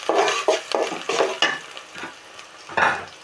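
Cardamom, cinnamon and bay leaves fry in a pan after the onions, giving a close, steady sizzle broken by several loud bursts of stirring and scraping.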